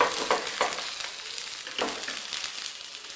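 A pesarattu, an Andhra mung bean crepe, sizzles loudly on a hot pan as it is flipped, with a dense, steady frying hiss and a few brief scrapes of a spatula.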